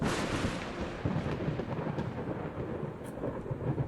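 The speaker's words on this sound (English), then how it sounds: "it looks like a thunderstorm's rolling in." Thunder from a thunderstorm in the video game Coffee Talk Tokyo, a steady low rumble layered with rain hiss, with a few sharper cracks near the end, continuous and fairly loud with no talk.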